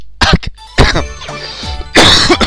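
A few sharp, loud coughs and throat-clearing bursts in quick succession, close up during a Sexy Parodius gaming session.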